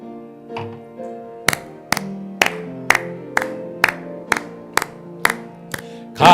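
A Sunday worship congregation at a Methodist church in Miryang claps in unison to a hymn. About a dozen sharp claps land on a steady beat, roughly two per second, over sustained organ-like accompaniment.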